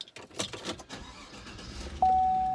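A truck engine cranks and catches after some jangling and rustling, then settles into a steady, close idle.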